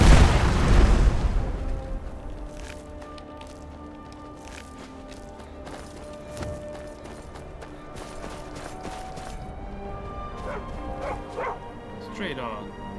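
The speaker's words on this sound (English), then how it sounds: "Stray dog." A stray dog barks repeatedly in The Elder Scrolls V: Skyrim, loud at first and then fading into a steady game soundscape with music tones and later chimes, while someone talks over it.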